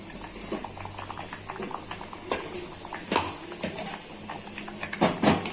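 Ash gourd sambar being stirred in a pot after adding sambar powder over a garlic and asafoetida tempering, with soft scattered scrapes and clinks over a faint bubbling hiss, loudest near the end.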